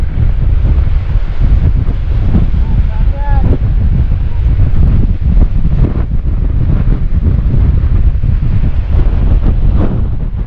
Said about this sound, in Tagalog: Ayan na, lakas ang hangin